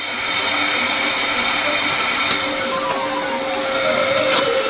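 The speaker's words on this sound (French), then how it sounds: "Un sèche-cheveux ordinaire nous aidera." An ordinary hair dryer blows continuously at a steady, loud whir, with a constant airy hiss and faint tonal hum. No voices are heard.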